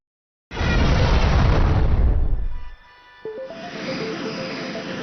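A loud, roaring cartoon explosion erupts and rumbles for a couple of seconds, then fades into a lingering hiss with a high electronic whine afterward.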